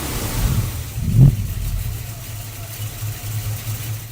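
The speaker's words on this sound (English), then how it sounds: "I couldn't help but rev it just a little bit because this big old 351 sounds like it's ready to go." A 1973 Ford Mustang Mach 1 with a 351 V8 idles with a deep rumble, then gives a single short blip of revving before settling back into a steady, lumpy idle nearby.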